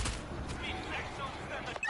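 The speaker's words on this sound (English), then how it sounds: "We're hearing gunfire from the river." Bursts of rapid gunfire in World War Z, Moscow, crackle across a busy, noisy soundscape, with voices mixed in and a few sharper shots standing out.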